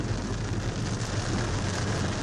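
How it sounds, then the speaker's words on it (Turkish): Heavy rain during a storm in Antalya, a dense steady hiss of falling water with a low rumbling undertone, continuous and fairly faint throughout with no voices. "Antalya gece yarısı başlayan ve aralıksız devam eden sağanak yağmuru ve fırtınaya teslim oldu"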